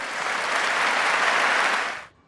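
A crowd applauds loudly and continuously after a Joe Biden speech, the dense clapping holding steady for about two seconds before cutting off abruptly.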